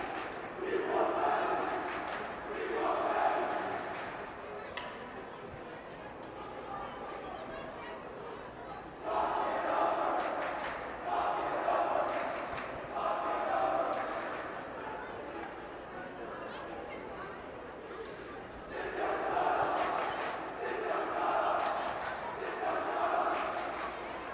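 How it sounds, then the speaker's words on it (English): The Fairfield Prep student section chants in rhythmic bursts at a high school hockey game, groups of shouted syllables repeating in waves over an arena murmur, with a commentator's voice nearby. "Really good crowd work and crowd control from whoever is leading the Fairfield Prep Jesuits student section"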